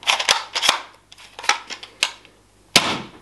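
A Nerf toy gun being handled and fired nearby: a quick run of sharp plasticky snaps and clicks, loud and close, irregularly spaced with brief pauses, then one final crisp shot, no speech.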